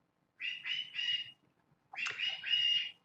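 A pet bird gives two quick bursts of bright chirping, a few short notes each, close by in a quiet room with a possible flutter of wings.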